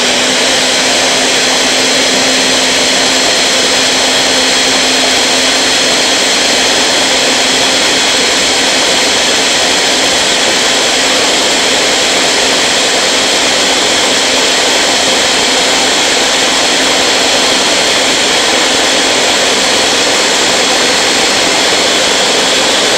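Blender mashing potatoes for carnivore mashed potatoes, running at high speed: a loud, steady whirring motor roar that holds unchanged throughout, with no talk over it.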